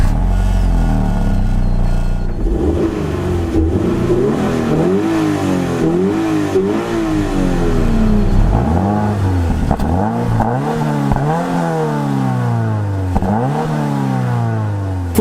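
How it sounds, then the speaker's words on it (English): A Subaru-sourced horizontally opposed four-cylinder engine of around 205 horsepower in a Toyota 86 revs up and down repeatedly. It is loud and steady with no talk, and the pitch sweeps rise and fall several times. "this Subaru-sourced horizontally opposed four-cylinder puts out just over 205 horsepower and not a lot of torque"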